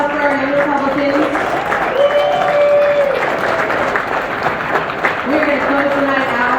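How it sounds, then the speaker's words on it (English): Crowd at a Republican social event applauds young Republicans, sustained clapping and cheering with music tones over it, loud and continuous, with voices mixed in. "Everybody give another round of applause for our young Republicans."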